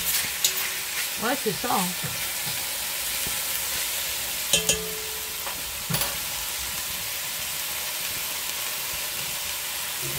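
Oil sizzling steadily as beef fries for a bourguignon, a constant close hiss with a few clanks of utensils, while people talk briefly and a high whistle-like tone appears early.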